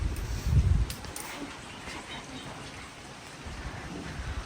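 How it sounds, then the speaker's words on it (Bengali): Soft steady rain hiss heard from a hotel room in Hallstatt, Austria, with a low rumbling burst near the start, calm and continuous, no voices. "ঘুরে ঘুরে বৃষ্টি হচ্ছে"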